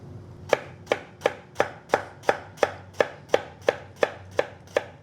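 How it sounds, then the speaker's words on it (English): Knife chopping salad ingredients on a cutting board, about a dozen crisp, evenly spaced chops at a steady brisk pace, close and clear with no talking. "I'm just chopping down on that with my knife"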